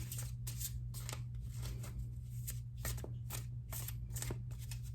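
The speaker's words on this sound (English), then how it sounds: "I'm shuffling a little off camera just because" Tarot cards are shuffled in a quick series of crisp riffling bursts, close and fairly quiet over a low steady hum, with no talking.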